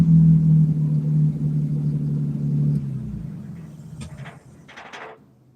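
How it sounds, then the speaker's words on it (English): A 1950 Plymouth with a Flathead 6 engine gives a final rev: a loud, steady low engine drone that holds, then settles and fades as the engine shuts down, with a few faint clunks near the end. "here's your final rev before I shut it off. There's your rev of a Flathead 6."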